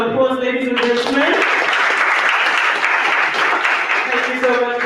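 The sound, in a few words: conference audience applause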